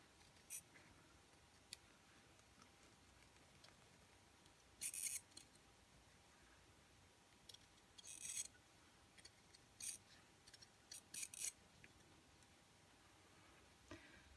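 Ordinary tailor's scissors trim a stitched fabric blank for a textile doll, cutting close to the seam; a few faint, crisp snips come in small clusters over otherwise quiet room tone.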